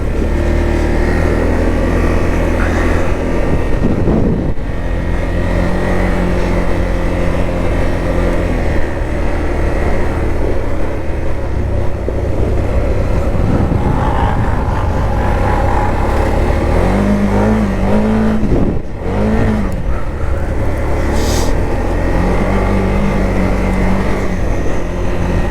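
A Gen 3 Can-Am Outlander 1000 XMR quad, about 1,100 pounds, rides winter trails over ice, its engine droning loud and steady up close with rising and falling revs throughout.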